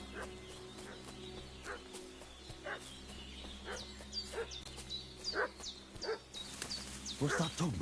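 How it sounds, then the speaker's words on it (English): A dog in Kingdom Come: Deliverance 2 barks in repeated short yelps over a steady low background hum, the barks growing louder and more frequent toward the end. "What's that dog making such a fuss about?"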